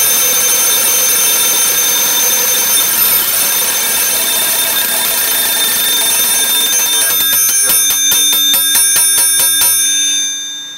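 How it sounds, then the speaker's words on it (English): A self-contained breathing apparatus low-pressure alarm rings loudly and steadily in a high shrill tone, switches to rapid rattling bell strikes for the last few seconds, then cuts off at the end. "it should turn red at the same time your low pressure alarm sounds"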